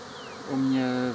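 A steady insect buzz rises in the second half, a close, droning hum with strong harmonics, from honeybees flying around hives among blooming acacia.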